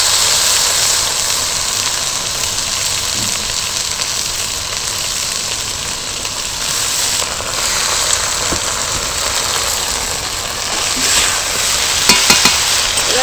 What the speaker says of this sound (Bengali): ডালটা আর এটা ঝিঙেটা এরকমভাবে নাড়াচাড়া করে একটু ভাজতে থাকবে।